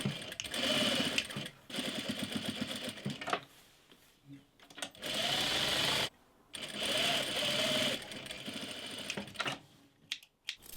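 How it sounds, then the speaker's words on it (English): A sewing machine stitches dress lining in a loop around the neckline, running in long steady whirring bursts, stopping briefly between runs and restarting. It is loud and close, with no voices. "And we're just going to sew in this big loop all the way around."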